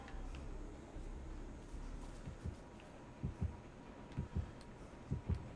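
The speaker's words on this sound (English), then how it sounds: "I hear the heartbeat." A killer's heartbeat pulses in the video game Dead by Daylight, starting faint and growing into steady, louder double thumps spaced about a second apart, with no one talking.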